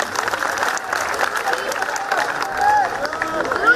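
Audience at a Bageshwar Dham Divya Darbar religious gathering claps in thanks, a steady dense wash of applause with crowd murmur and some voices mixed in, holding level for a few seconds.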